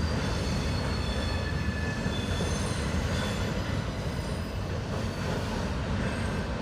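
A BNSF freight train rumbles across the Salmon Bay Bridge, a dense, steady roar of rolling wheels and rail noise with faint high squeals running through it.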